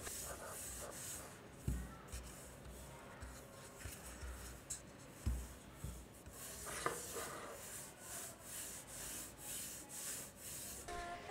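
Razer Viper Mini gaming mouse with PTFE feet gliding back and forth across a Redgear MP44 cloth mouse pad, a soft continuous rubbing swish with a few sharper scuffs, close and quiet with no talk.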